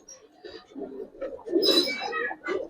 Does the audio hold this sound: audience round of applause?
no